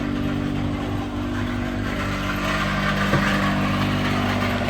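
A small auxiliary pony motor on a forestry bucket truck runs steadily, giving a constant droning engine hum with a fairly even tone throughout and no speech.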